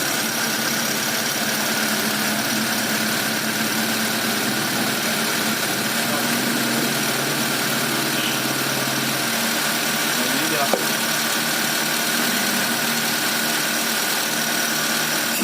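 A Magma 4G13 SOHC car engine, freshly overhauled and upgraded, runs at a steady idle with a constant mechanical hum and faint ticking, close to the microphone, while people talk in the background.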